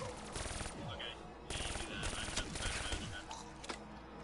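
Rapid gunfire in Call of Duty zombies mode, dense repeated shots in quick bursts with brief gaps, while players talk over it.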